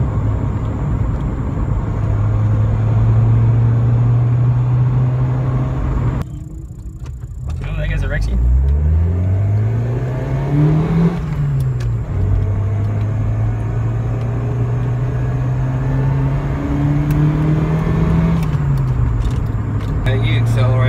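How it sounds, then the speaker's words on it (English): Car fitted with a homemade water fuel injection system, engine droning steadily while driving at light throttle, with rising and falling pitch as it shifts and accelerates, under someone talking. "the engine note itself has cleaned up a lot from being a very sort of harsh feeling engine to being a lot"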